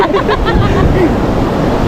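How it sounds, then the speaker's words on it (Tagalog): Sea waves at Beau La Mer beach in Infanta, on a somewhat rough sea, wash in a loud, steady roar of surf with wind noise, while faint voices murmur in the background. "Ito yung dagat dito mga sadik, medyo maalon lang."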